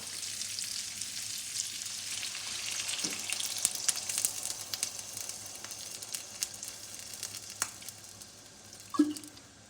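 Carrots sizzling and frying in a pan after water is added, a steady soft hiss with a few small pops and stirring sounds, close but quiet, with no talking.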